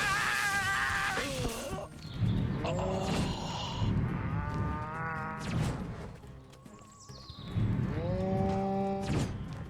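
Cows in Destroy All Humans! moo repeatedly, with several long, loud, drawn-out lowing calls that overlap and rise and fall in pitch, set against a background of game noise.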